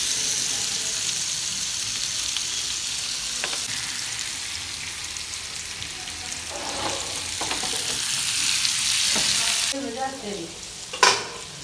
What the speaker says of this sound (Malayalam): ചിക്കനെ ഫസ്റ്റ് ഫ്രൈ ആക്കിയിട്ട് എടുക്കാം